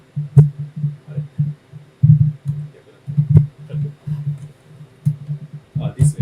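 A stone mill grinds tencha tea leaves into matcha with a low, rhythmic rumbling throb that pulses steadily about twice a second, broken by occasional sharp clicks, close and fairly loud.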